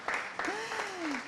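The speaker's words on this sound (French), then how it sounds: "Applaudissements pour Claude." Applause for an evening event's organizer rises in a hall, a layer of scattered clapping with a voice calling out over it, short and moderately distant.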